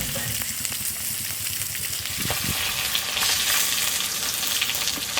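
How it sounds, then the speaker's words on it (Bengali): Large rohu fish pieces frying in hot oil, with the skin popping and spitting now and then over a steady, close, fairly loud sizzle. "চামড়াগুলো মাঝে মাঝে এত ফুটছে"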